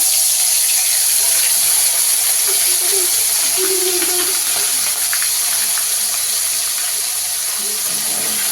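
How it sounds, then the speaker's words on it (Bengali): Prawns fry in a pan with a dense, continuous hiss of hot oil, loud and close, holding even with faint clatter and no speech. "এবার আমরা চিংড়ি মাছটা ভাজা করে নিচ্ছি।"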